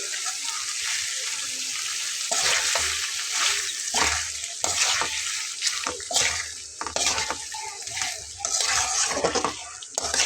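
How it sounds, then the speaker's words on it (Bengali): Loud, continuous sizzling with rhythmic scraping and stirring strokes in a pan as fried onions are mixed into chicken curry, close by, repeated throughout with no speech. "ভাজা পেঁয়াজটা দিয়ে নিচ্ছি দিয়ে খুব ভালোভাবে মিলিয়ে নেব"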